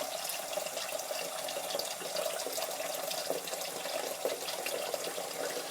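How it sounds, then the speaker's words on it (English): Tap water runs steadily into a bathroom sink while being filled for shaving, a close, continuous splashing hiss with no speech. "Need to get some water in my sink."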